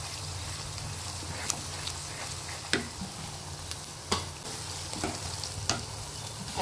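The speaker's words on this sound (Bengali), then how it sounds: "তো এর মধ্যে আমি এখন আদা রসুন দিয়ে দিচ্ছি" Ginger and garlic go into onions frying in a pan for chicken fry, giving a steady close sizzle broken by a few sharp clicks and taps of a spoon stirring against the pan.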